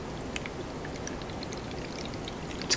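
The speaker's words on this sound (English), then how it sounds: "We're going to stop pouring and see if we can compare what we see coming out." Water poured onto soil in a container during a soil erosion demonstration, a soft steady pouring and trickling sound that runs continuously at close range with faint splashes and a small knock at the end.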